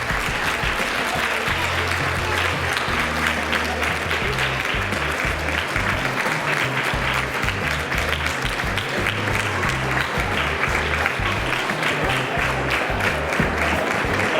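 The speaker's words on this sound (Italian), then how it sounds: "fate anche voi, fate l'applauso" A crowd at a beauty pageant claps continuously in loud, dense applause, with a thumping music beat and a voice faintly underneath.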